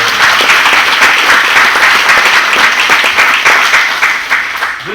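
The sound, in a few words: audience applause for David Price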